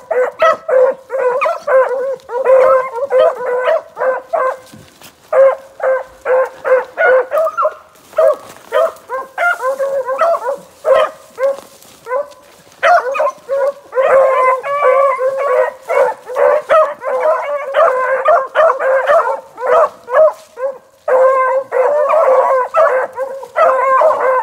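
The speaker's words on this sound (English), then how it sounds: "That puppy's barking right now." A young puppy barking among a pack of other dogs, with dense, continuous overlapping barks, yips and howls, loud and close for the whole stretch, with only brief gaps.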